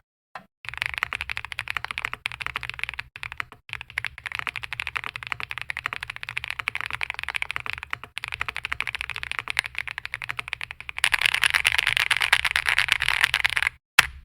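Continuous fast typing on a mechanical keyboard with linear switches, dense clicks and clacks at a steady rapid rhythm, close and fairly loud, growing more intense toward the end, with no voices.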